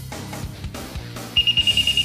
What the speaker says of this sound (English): when you go through the scanner, the alarm still goes off.